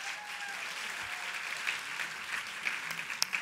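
Audience applause at an All-America City Awards finalist presentation, a steady, moderately loud wash of clapping held throughout with a few sharper claps near the end and no talk over it.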